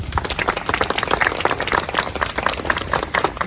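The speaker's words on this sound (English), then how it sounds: "please give her another big round of applause" An audience claps steadily after a speech at an Indigenous Peoples' Day 2022 event: dense, continuous applause, loud and close, with no voices over it.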